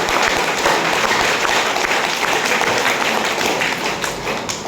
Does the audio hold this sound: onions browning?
no